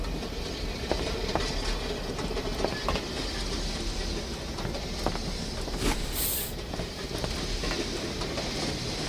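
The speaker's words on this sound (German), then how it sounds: "Den Zug haben wir auf jeden Fall hinter uns lassen." A train rumbles past in the World War II shooter game Übersoldier 2, a steady rolling clatter with faint rail clicks running the whole time at a constant, moderately loud level.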